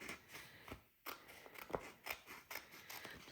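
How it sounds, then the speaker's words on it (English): Scissors snip down the middle of a sticker strip still on its backing paper, a quiet, close series of short crisp cuts with brief pauses between them. "I'm going to cut this one little strip"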